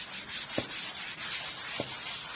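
Sandpaper rubs across a decoupaged clay roof tile in quick, rhythmic back-and-forth strokes, a close scratchy hiss repeating about every quarter second with a couple of light taps.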